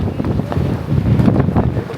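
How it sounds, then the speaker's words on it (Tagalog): Strong wind buffets the microphone at Fansipan summit, Vietnam, a steady low roar with gusts throughout. "Ang lakas ng hangin."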